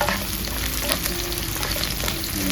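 Shallots and scallion stalks fry in hot oil for a spicy squid-in-black-ink dish, a loud dense crackling sizzle with faint spatula scrapes under it and no voices.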